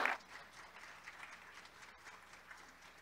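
Soft, scattered clapping from a church congregation, faint and somewhat distant, with a brief louder burst at the start and then a low, steady patter that continues until the end.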